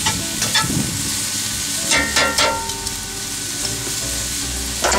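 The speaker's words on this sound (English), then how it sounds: "We want to make sure that we flash fry them." Chicken fajita strips flash frying on a Yoder YS640 pellet grill set near 405 degrees, a loud continuous sizzle with bursts of spatula scraping and stirring throughout.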